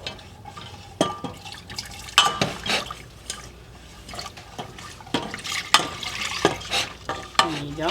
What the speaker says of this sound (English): We're slowly going to whisk in our eggnog.